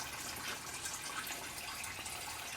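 Rusty sludge and water drain steadily from the radiator of a 1974 Ford Bronco, a continuous quiet trickling and gushing that stays even throughout with no talk.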